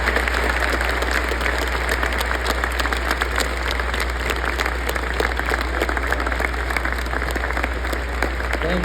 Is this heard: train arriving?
no